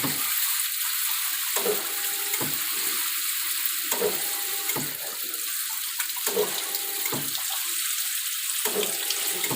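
Water runs steadily from a hot and cold mixer tap during installation, a continuous hiss with the flow briefly changing or being interrupted every second or so.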